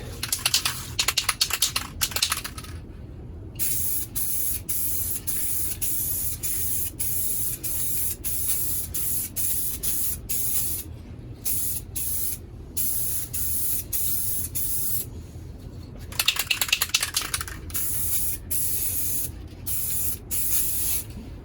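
An aerosol spray can lays a light coat of paint on the roof of a 2011 Jeep Grand Cherokee in short and long hissing bursts separated by brief pauses, close by and with no speech.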